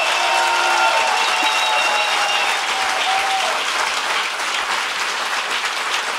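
An audience claps steadily and loudly for several seconds at a Greek stage event, a dense, even wash of applause with no voices.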